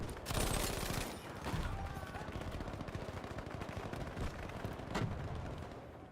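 Gunfire in the video game Battlefield V, with M1922 bursts and booming shots, loud and dense with sharp reports, a heavy opening volley and another burst near the end.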